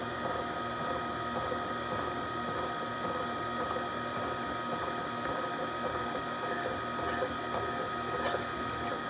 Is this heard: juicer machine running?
yes